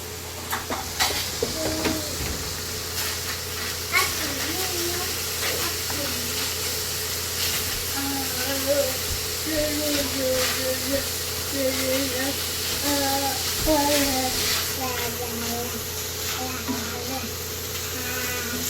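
Cilantro and garlic sauté in lard in a pan, giving a steady close sizzle and crackle that runs throughout, with faint voices and clinks underneath.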